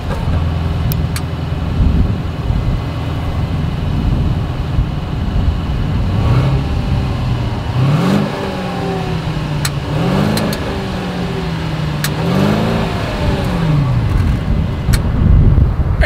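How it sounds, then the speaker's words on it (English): A 2022 Mercedes-Benz S 580 engine revs up repeatedly, the exhaust note rising and falling in several loud pulls over a steady idle. "As always, here is that exhaust clip."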